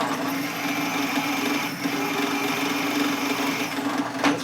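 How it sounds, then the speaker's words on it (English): A drill bores into a 1947 Harley-Davidson EL Knucklehead 74ci engine case during a machining repair, giving a steady high whine that runs continuously at close range. "This stuff drills quick."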